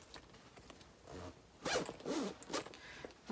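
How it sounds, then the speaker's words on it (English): A zipper on a tote bag pulled closed in a few quick raspy strokes, close and clear, after a moment of quiet handling. "then I'm just going to close my zipper."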